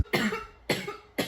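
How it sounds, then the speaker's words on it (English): Three hard, raspy coughs in quick succession right after taking a hit of smoke, close and loud, each burst trailing off before the next, with no talking. "I am a tomato from coughing."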